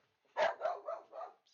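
A dog barks in a quick burst of four yappy barks in a row, fairly faint and muffled as if from another room, with no other sound around it.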